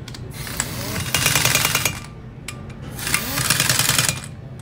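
Torque tool set on low driving parts together while assembling a small meter, coming in two loud buzzing bursts of rapid rattling about a second long each, with quieter handling and low hum in between.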